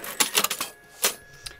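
A sewing machine runs a tight, small stitch around the outline of a patchwork fabric egg: a quick burst of rattling clicks, a pause, then another short clatter and a faint final tick, close by.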